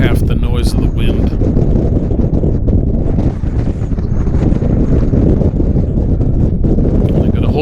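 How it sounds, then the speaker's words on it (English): Hurricane-force wind at Meteor Crater roars and buffets the microphone in a loud, continuous, rumbling wash that never lets up. "That's hurricane wind there, buddy."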